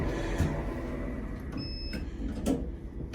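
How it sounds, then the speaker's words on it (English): Elevator sliding doors closing, with soft mechanical thumps and a brief chime tone over a steady low hum, no talking. "Doors closing."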